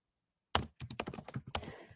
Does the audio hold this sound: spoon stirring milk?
no